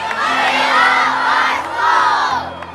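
Crowd at an Ohio rally for charter schools shouting and cheering loudly in two swelling waves, dense massed voices and whoops close by.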